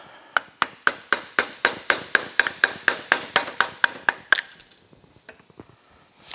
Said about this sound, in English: let's pry that outer plate off